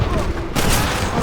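Red Dead Redemption gunfire erupts in a loud, dense volley that starts about halfway through and keeps rolling to the end, with game sound and voices underneath.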